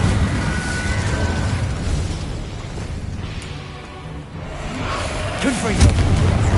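A fire spell, Incendio, cast in the game Hogwarts Legacy on PS5: a dense, roaring burst of low rumbling flame and crackle that fills the clip, swelling again near the end with a sharper whoosh.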